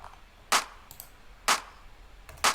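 A two-layer clap sample for a disco house track in FL Studio, sounding as sharp, bright snaps about once a second with a faint ghost hit between, fairly quiet and dry, with no voices.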